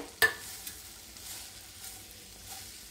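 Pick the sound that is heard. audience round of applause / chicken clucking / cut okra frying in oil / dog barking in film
cut okra frying in oil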